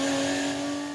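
A Porsche Carrera Cup race car's 3-litre flat-six engine holds a high, steady rev, a loud, close, bright tonal whine that fades slightly toward the end of the short burst.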